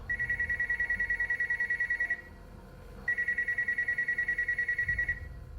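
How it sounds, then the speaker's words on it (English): A telephone rings in two long bursts of rapid trilling bell tone, each about two seconds, separated by a second of quiet, moderately loud against faint room noise. "the phone's ringing"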